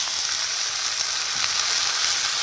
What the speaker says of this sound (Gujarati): આપણે ડુંગળી નાખી દઈશું. આપણે ટમેટા પણ નાખી દઈશું.